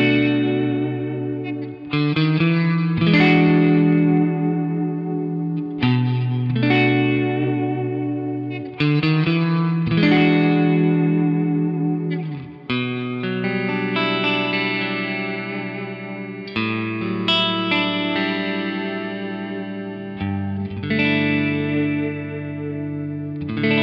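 PRS Fiore electric guitar on the humbucker plus neck pickup setting, played with chorus and light distortion: a run of strummed chords and ringing arpeggios with steady phrasing, close and full, no talking.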